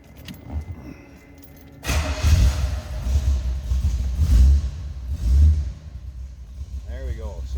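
A 1932 Chevrolet Master Roadster street rod's engine cold-starts after a quiet moment, catching abruptly into a loud rumbling idle with revs swelling and settling, close by.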